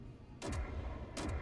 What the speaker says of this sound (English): Are we shooting? Hold on. I'm shooting.